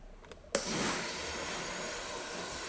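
Steam iron releasing a sudden burst of steam that starts after a couple of faint clicks, then settles into a steady, loud, broad hiss that carries on without talk.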